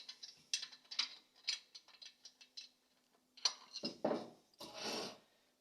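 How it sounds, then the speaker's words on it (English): Crankshaft of an engine short block being turned by hand, giving a run of close mechanical ratcheting clicks and ticks in irregular bursts, followed by heavier scraping and grinding rasps near the end. "Let me turn this crankshaft on this short block so you can see."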